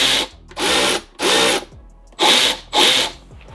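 A Milwaukee 2567-22 3/8-inch cordless ratchet spins a socket in five quick bursts of high whirring, each lasting about half a second with short pauses between, close and loud.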